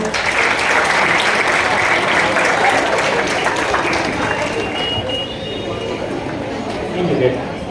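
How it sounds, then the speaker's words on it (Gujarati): Enthusiastic applause from a seminar audience fills the room, steady clapping that gradually thins out toward the end. "જોરદાર તાળીઓ પાડો"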